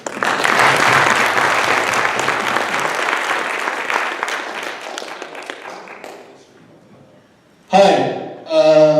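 An audience at a meeting gives a speaker loud, sustained applause that gradually thins and fades out, followed by a voice starting to speak near the end.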